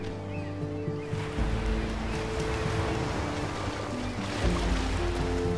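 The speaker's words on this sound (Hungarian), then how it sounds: "Igen, itt jön a víz, elmegy" Water washing in and pulling back in the video game Unravel, a steady wash of surf-like noise that swells and recedes, with faint background tones and no talk.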